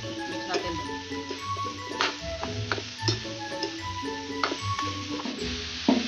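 Bamboo shoots stirred and frying in a pan, with a steady sizzle broken by repeated scraping and clacking strokes of the utensil, close and moderately loud.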